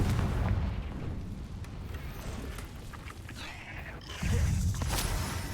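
A Confringo fire spell explodes in the video game Hogwarts Legacy, giving loud, booming blasts with a rumbling low end. One burst comes early and a second strong burst arrives near the end, with continuous game noise in between.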